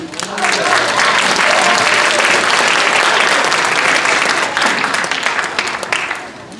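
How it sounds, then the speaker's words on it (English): Audience applause at a senior center's annual showcase, a full, steady wash of many hands clapping that swells quickly, holds, then eases off toward the end. "I would like to just go ahead and give a round of applause"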